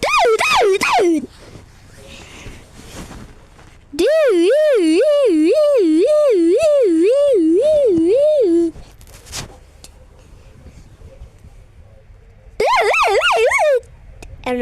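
Alternating fire, police and SOS alarm sirens sound in loud bursts: a warbling wail in the middle, short sweeping tones at the start and end, with quieter gaps and faint voices between.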